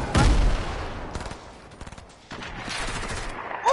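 Sniper rifle shots in a Fortnite-style shooter: a sharp, loud crack at the start with a falling tail, followed by quieter rattling fire and scattered impacts before another burst near the end.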